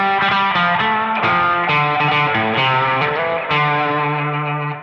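Electric guitar on the bridge pickup playing a mean, twangy spaghetti western line with distortion and echo effects, a sustained series of picked notes and bends that rings loud and close with no talking.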